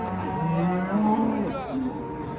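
A cow at a livestock market in Tergachi gives a long, drawn-out moo that bends in pitch, loud and nearby, with a faint crowd murmur behind it.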